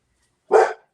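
A single short dog bark, close and fairly loud, standing alone against silence in a quiet room.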